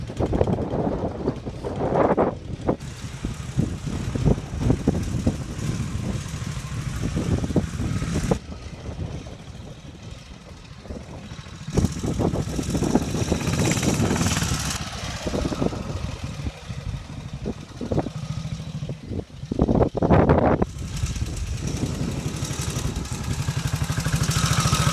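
A restored 1942 Norton 16H army motorcycle, badged to 3rd Infantry Division, runs steadily and loud for the whole stretch, its engine note rising and falling as it is ridden up the road, with heavy wind buffeting the microphone.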